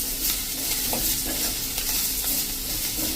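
Spices and fresh coriander leaves frying in hot oil while being stirred, a loud continuous sizzle with brief stirring scrapes throughout, no voices.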